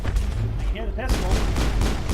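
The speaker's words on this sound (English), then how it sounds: "I can hear the pistol." Pistol gunfire from the Mass Effect video game, a quick series of loud close shots under game combat noise, with a short voice-like warble in the middle.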